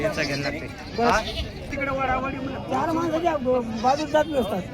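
A goat bleats repeatedly amid a busy goat market, with people talking nearby and a crowd murmuring in the background.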